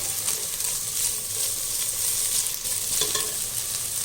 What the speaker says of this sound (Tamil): இதில் நல்லா இந்த இஞ்சி பூண்டு நல்லா வதங்கணும்.